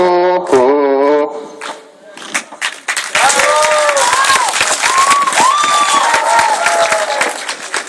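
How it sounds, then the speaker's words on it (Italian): Crowd at a cosplay event applauds and cheers for a One Piece Brook cosplayer; a loud sung or shouted voice opens, then dense clapping with shouts and whistles rises and carries on. "Facciamo un altro applauso a Brooke."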